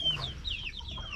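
Chickens clucking and chirping nearby, a run of short high calls over a low rumbling background.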